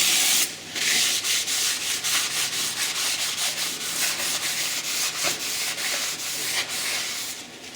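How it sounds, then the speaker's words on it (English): Brake disc faces are wiped clean with brake cleaner, giving a close, rhythmic rubbing and scrubbing of cloth against metal in repeated strokes. "we're just going to give these a bit of a spray and give them a really good wipe off"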